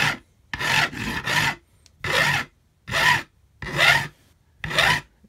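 A file rasping across the fret ends of a Squier Telecaster neck to bevel them, six rhythmic strokes in steady succession with short pauses between, close and clear, no talking.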